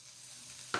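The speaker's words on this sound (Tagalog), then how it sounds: "Lagay na natin yung minced garlic." Minced garlic dropped into melted butter, for Bicol-style garlic buttered shrimp, gives a steady soft sizzle and then a sudden brief flare of hiss near the end, close and with no talk.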